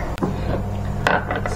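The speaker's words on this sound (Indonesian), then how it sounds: "Sekarang kita ulek ya" Fried pecel sambal ingredients, including candlenuts, pounded and ground in a mortar with a pestle: hard knocks and scraping taps at close range, irregular and fairly loud, without any talking.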